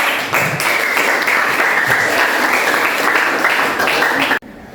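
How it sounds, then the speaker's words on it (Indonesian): A class applauds a group's news-text presentation, producing loud, continuous clapping from many students that stops abruptly near the end. "Ya, kasih tepuk."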